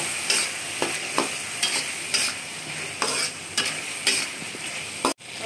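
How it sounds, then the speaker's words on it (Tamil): A spoon stirs chilli, turmeric and curry powders into tomato thokku in a pan, rhythmic scraping strokes about every half second over a steady sizzle, close up, ending with an abrupt cut. "சேர்த்துட்டு நல்லா மிக்ஸ் பண்ணுங்கள்."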